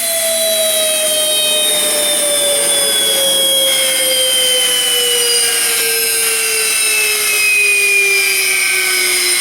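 A Fischer Dottikon center hole grinding machine running loud and close, a steady high whine with smooth tones that slowly drift downward as it spins, constant with no talk.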